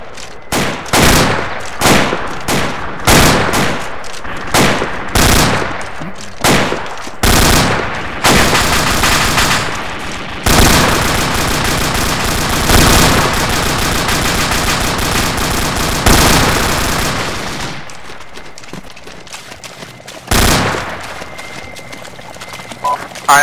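Arma 2 battle gunfire: loud, close rifle shots in a rapid irregular series, then sustained automatic bursts and a long rattling fusillade, fading to a lull before a few final sharp shots.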